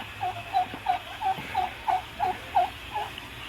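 Soft, high peeping calls from newly hatched chicks repeat in a steady rhythm, about ten chirps, close by over a low background hum.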